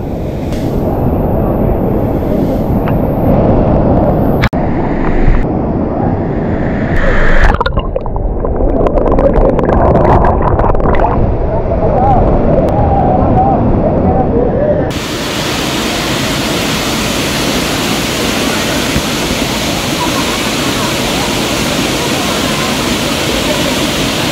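Soormane Falls near Kalasa rushes in a loud, steady roar of falling water that fills the whole scene, with a voice faintly audible under it.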